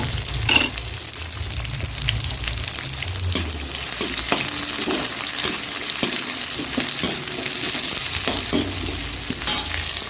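Onion, cumin, bay leaf and dried chilli fry in a hot wok with a steady, close sizzle, broken by scattered stirring scrapes and taps throughout.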